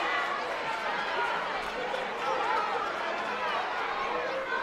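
A high school girls' basketball crowd in a gym voices displeasure at a referee's call, with a steady roar of chatter and shouting, and a commentator's voice running over it.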